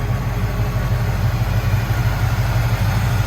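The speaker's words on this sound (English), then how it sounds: "I wanted you to hear it running underneath the hood, so come around, pop the hood on it" A 1978 Ford F-150 Ranger pickup idles with the hood open, its engine giving a close, loud, smooth low rumble with a steady, even pulsing beat and no talk.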